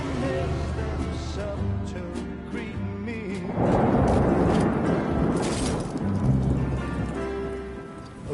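Video game rain falls steadily as a broad, continuous hiss that swells louder midway, with some tonal game sounds and music layered underneath.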